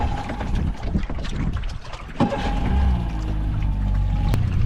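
An outboard boat engine, 90 horsepower, cold starts: it cranks and catches, then settles into a steady low idle rumble with some wind noise, close by.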